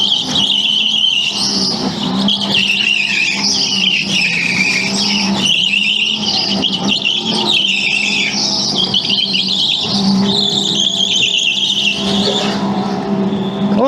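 A race car corners hard on a track, its tires squealing and scrubbing for grip over a loud, steady engine drone that holds throughout with shifting pitch.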